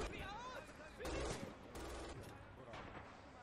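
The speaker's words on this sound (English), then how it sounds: "I don't know where he's shooting exactly." Gunfire in Red Orchestra 2, bursts of distant shots and rattling fire in a multiplayer battle, fairly faint, mixed with game noise and voices.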